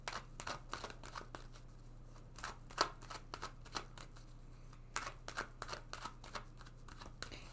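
Tarot cards being shuffled, a run of quick papery riffles and soft flicks repeating close and fairly quiet over a steady low hum, with no one talking.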